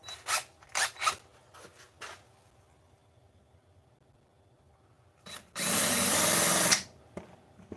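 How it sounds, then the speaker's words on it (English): Power drill cuts a countersink taper into a pilot hole: a few short clicks and scrapes of handling, then one loud, close whirring burst of about a second. "Then what we'll do is put our countersink in it,"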